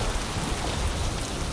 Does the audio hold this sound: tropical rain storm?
yes